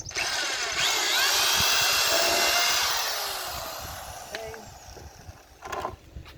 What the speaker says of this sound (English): and drill it out.